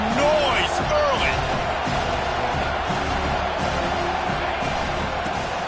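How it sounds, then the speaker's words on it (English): Stadium crowd noise from an NCAA college football video game, a dense, steady roar with scattered cheers and whoops. A commentator talks continuously over it. "This crowd bringing the energy and noise early."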